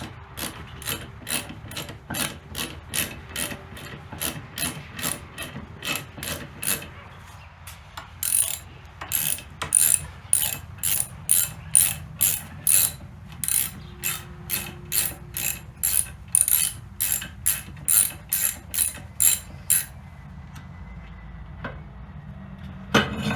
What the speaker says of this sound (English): I'm going to have to get a longer Allen wrench.